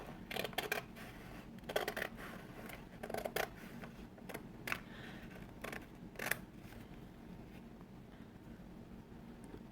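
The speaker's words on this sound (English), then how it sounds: "we're going to open it up and cut right on that crease we just made" Scissors cutting paper along a folded crease, a series of soft, crisp snips in short clusters with gaps between, close and quiet with no talk.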